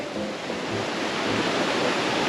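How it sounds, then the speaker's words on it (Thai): A waterfall in Chiang Mai gives a continuous broadband rush of falling water, loud and steady throughout with no pauses and no voices. "โอ้โหเที่ยวน้ำตก"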